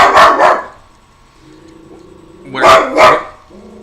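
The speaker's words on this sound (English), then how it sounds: "there was a dog that barked out there, so now mine's got to go and answer back" A nearby dog barks back at another dog, giving two loud pairs of quick barks with a quiet pause between them. Faint background hum continues throughout.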